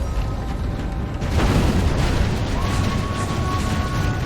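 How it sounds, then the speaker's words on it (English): A deep boom rolls out of a dense, rumbling siege soundscape in a medieval strategy game, with a heavy artillery impact around the middle and continuous loud battle noise throughout. "track where the artillery is going to"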